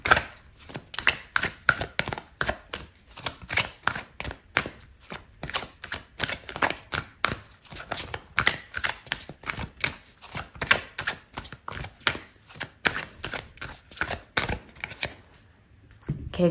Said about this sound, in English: I'm gonna pull out another card for you